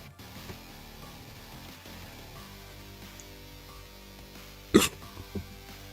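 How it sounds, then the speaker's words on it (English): A single sharp hiccup from a person making art indoors, a brief loud burst near the end followed by a smaller catch, over a quiet background. "Oh god, I'm gonna hiccup."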